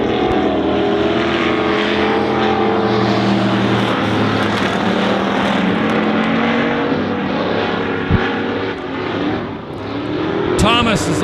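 Stock cars race around the Honor Speedway oval, their engines a steady, loud, droning roar that swells and fades as they pass, with a race announcer talking over the noise throughout.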